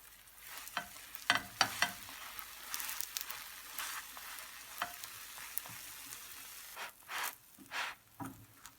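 Breakfast buns (çörek) fry in oil in a pan, giving a steady hiss and sizzle with occasional louder crackles and spatters, close up and with no talking.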